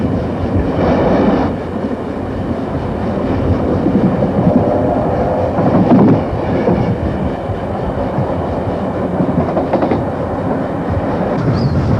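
A steam train, the first to run from the Pacific Ocean to the Indian Ocean, pulls out of Sydney, its wheels clattering and rumbling steadily, loud and close throughout.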